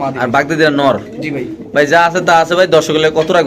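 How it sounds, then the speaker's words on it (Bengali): White Bombay pigeons for sale coo in soft, repeated throaty calls, close by, mixed with people talking over them. "দেখেন কত সুন্দর একটা কবুতর"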